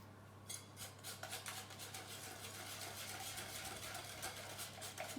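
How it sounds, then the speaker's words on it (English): A utensil scrapes around the bottom of a mixing bowl, a continuous rough rubbing with repeated rhythmic strokes, close and fairly quiet over a steady low hum, with no talking. "scrape the bottom of the bowl to incorporate all the mixture"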